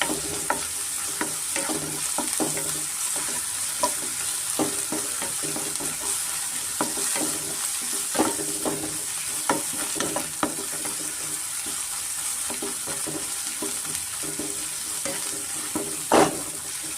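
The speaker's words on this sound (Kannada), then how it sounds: "ಅದರೊಳಗೆ ಸ್ವಲ್ಪ ನಾವು ಫ್ರೈ ಮಾಡ್ಕೊಳ್ಳೋಣ" Ginger garlic paste fries with onions in a pan for pepper mushroom rice, a steady sizzle with scraping stir strokes and occasional louder spoon knocks against the pan, close and continuous with no voices.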